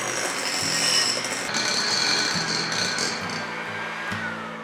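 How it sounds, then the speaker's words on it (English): An electric hand mixer beats sponge cake batter with vanilla essence, a continuous loud whirring drone with slight shifts in pitch and some rhythmic rattling as the beaters move through the bowl. "again with the electric mixer"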